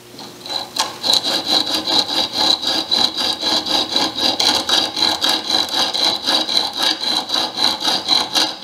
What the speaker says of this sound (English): I'm going to do that with a diamond file and go from there, then hone it.